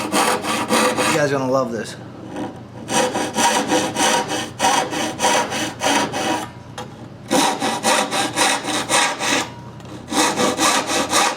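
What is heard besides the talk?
hand sawing wood with a blue blade saw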